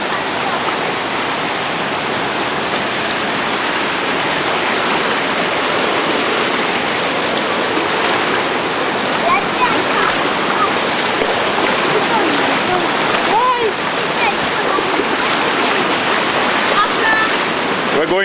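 River flowing on a hike in Dominica toward Victoria Waterfalls, a loud, steady rushing wash of water close by, with occasional voices over it.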